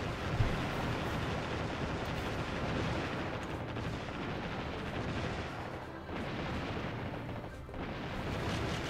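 Naval high-angle guns fire in the Warship Gunner 2 video game, a dense, steady roar of overlapping booming shots and rumbling blasts that continues without pause at fairly low level.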